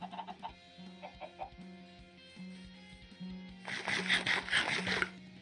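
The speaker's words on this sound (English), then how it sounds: "Let's go ahead and breed our chickens." Minecraft chickens clucking as they are bred, a string of short close clucks over a steady low hum, joined near the end by a burst of brighter clattering game sounds.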